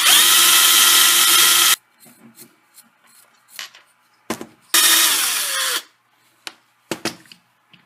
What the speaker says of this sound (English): Get the drill down in our starter hole there.